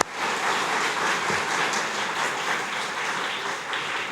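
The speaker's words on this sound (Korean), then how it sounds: "박수로 환영하겠습니다" A church congregation applauds in welcome of a visiting sister church at a joint worship festival, steady dense clapping filling the hall without a break.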